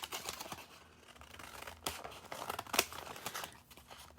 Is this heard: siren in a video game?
no